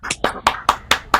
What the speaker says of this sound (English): give a nice big round of applause for the performers that have been sharing the music so far